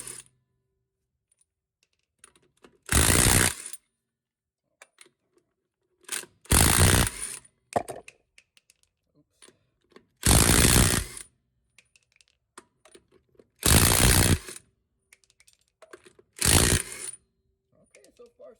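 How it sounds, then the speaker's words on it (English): A Hart 1/2 inch socket set ratchet loosens lug nuts in five loud, separate bursts of rapid ratcheting clicks, each about a second long, spaced by quiet gaps with faint handling noise. "we're going to loosen these guys"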